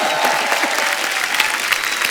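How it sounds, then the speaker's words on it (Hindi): A studio audience at a Kapil Sharma comedy show claps in dense, sustained applause, loud and even throughout. "बहुत जोरदार ताली हो।"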